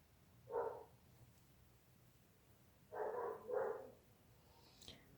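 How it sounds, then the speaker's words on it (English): Neighbor's dogs bark in a few short, loud bursts: a single bark, a pause, then two quick barks close together, with a faint yip near the end, over a quiet background. "And the neighbor's dogs are going nuts."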